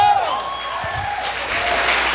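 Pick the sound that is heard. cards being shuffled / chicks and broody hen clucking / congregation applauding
congregation applauding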